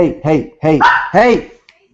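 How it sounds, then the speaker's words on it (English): A dog barks in several loud, close bursts spread across about two seconds. "The dog's barking."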